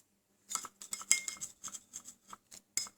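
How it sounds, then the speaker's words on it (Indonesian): A metal spoon stirs a homemade cough remedy of sweet soy sauce and lime juice in a glass or cup, giving a quick series of light clinks and scrapes at close range, with brief gaps between strokes. "Kemudian kita aduk sampai rata"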